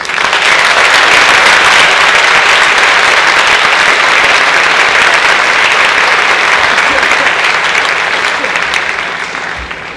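Sustained loud applause from a large audience at a school awards ceremony, dense clapping holding steady for several seconds before starting to taper near the end.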